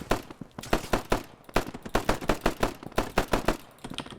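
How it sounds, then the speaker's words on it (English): Rapid automatic gunfire in the video game Operation Harsh Doorstop, loud and close, a dense stream of shots in quick bursts with brief gaps, no voices. "I do like that there's a lot of firing going on"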